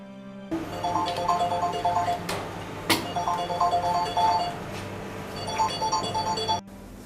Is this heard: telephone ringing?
yes